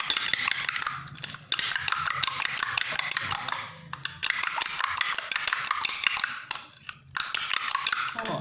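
Eggs being whisked with black pepper and spices for a street-food omelet burger, a steady busy scraping and clinking of utensil against bowl that runs nearly continuously, pausing briefly a couple of times.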